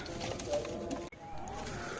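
Pigeons coo softly inside a loft during feeding time, low murmuring calls under a steady background hum, with a brief dropout midway.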